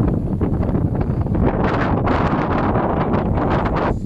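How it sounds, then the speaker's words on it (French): Wind blows across a sailboat under way in a rising breeze, making a steady, gusty roar that buffets close to the microphone for the whole stretch, with no talking. "le vent s'est un petit peu levé là"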